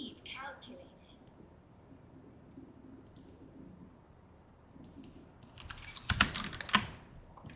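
Computer keyboard typing during a Path of Exile gaming session, rapid clustered clicks with a louder burst of keystrokes near the end, under quiet background voice.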